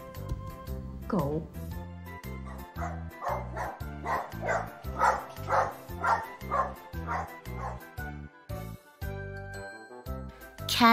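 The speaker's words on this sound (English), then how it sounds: "dog" A dog barks and yips again and again in a quick rhythmic run, mid-distance, over light jingling music, with a voice speaking at the start.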